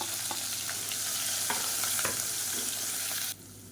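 Mustard seeds, curry and mint leaves, chopped green chilies and ginger-garlic paste fry in hot oil, giving a dense continuous sizzle with scattered crackles and stirring before it cuts off abruptly.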